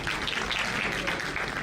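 Students clapping at a live Thapar Institute of Engineering & Technology celebration, a steady wash of many hands applauding at moderate level with no pauses.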